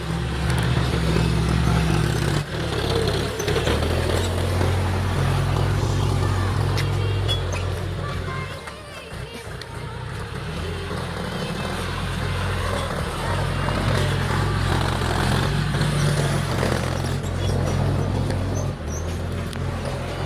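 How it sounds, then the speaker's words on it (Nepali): A tractor engine runs in a farm field during maize fodder sowing. Its loud, steady low rumble carries through the whole stretch, dipping briefly midway, with no clear speech over it. "ट्र्याक्टरको आवाजले केही सुन्न दिएको छैन"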